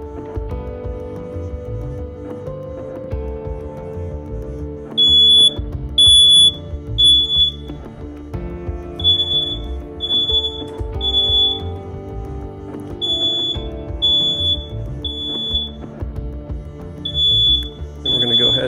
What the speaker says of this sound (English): With the smoke alarm activated with the door open, it was in the 90 or so range.